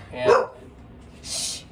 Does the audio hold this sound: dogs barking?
yes